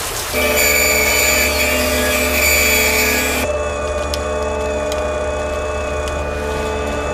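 A heavy drill bores steadily into a bank vault, its loud droning motor whine holding a constant, harmonic-rich pitch throughout with no pauses.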